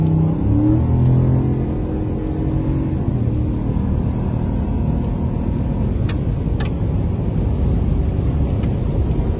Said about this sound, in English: a pretty powerful engine, even without turbos